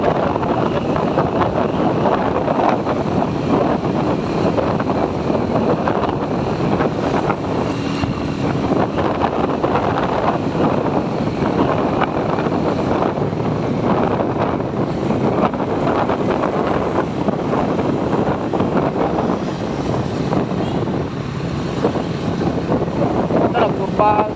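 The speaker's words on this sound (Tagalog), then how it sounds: "talagang napakalakas yung hangin" Strong wind on a road from Binmaley to the Urdaneta by-pass in Pangasinan buffets the microphone in a constant, loud roar that continues without a break throughout.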